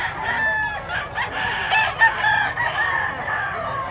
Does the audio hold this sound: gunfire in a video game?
no